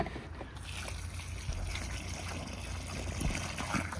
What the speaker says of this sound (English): We gotta dump some water in the hole.